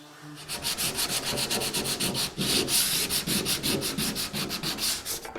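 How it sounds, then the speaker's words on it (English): Rusty, paint-peeling bottom of a metal Blackhawk tool chest being sanded with 80 grit, a rapid rhythmic back-and-forth scraping rasp, close and steady for a few seconds with no speech. "So I'm going to give the bottom a sand with 80 grit, see what it looks like."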